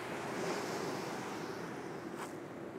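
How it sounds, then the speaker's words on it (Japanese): Ocean waves washing onto a rocky shore make a steady, loud broadband surf roar with wind noise buffeting the microphone, continuous and close throughout with no talking. "海だ。"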